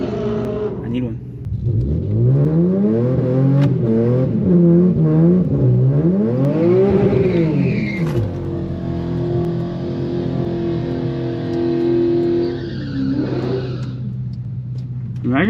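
An E85-tuned Infiniti Q50 drag races an all-motor Camaro at a track, engines roaring loud and close, with pitch sweeping up and dropping through repeated gear changes before settling into a sustained drone.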